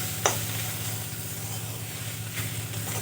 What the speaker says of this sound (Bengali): এইভাবে আমি কিছুক্ষণ নাড়াচাড়া করে রান্না করে নেব